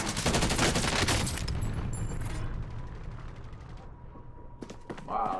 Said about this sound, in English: Do you not hear this man shooting?